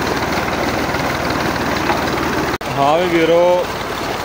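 A tractor engine driving a water bore pump through a shaft on a Punjab farm, a steady loud low drone and rush throughout, with someone speaking briefly over it near the end.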